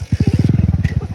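A motorcycle engine chugs close by with a fast, regular thumping exhaust beat, each firing pulse distinct and loud across about a second.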